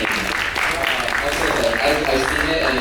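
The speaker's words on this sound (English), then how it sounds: "Can we get a round of applause for her?" A student panel audience applauding to honor a student's club, a steady broad wash of clapping that runs throughout, mixed with voices talking over it.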